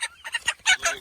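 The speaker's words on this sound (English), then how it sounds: "We got all the Cornish cross chickens there." Cornish cross chickens cluck and chatter nearby on a farm, a quick run of short, close calls in rapid succession.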